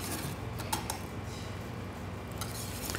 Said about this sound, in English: You want to whisk in your butter.